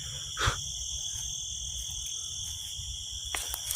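A swarm of insects outdoors at night near a light, heard as a steady, continuous high chirring drone with a couple of brief nearby bursts.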